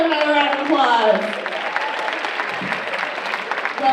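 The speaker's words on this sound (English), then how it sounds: "give them both another round of applause" A school crowd applauds during a faculty writing showcase, with dense clapping and cheering under voices at the start, holding steady and loud throughout.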